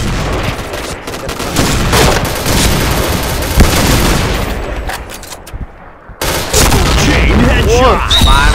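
Loud, dense gunfire in the video game Point Blank, overlapping shots and bursts with booming impacts, one brief near-silent gap, and voices talking over the action.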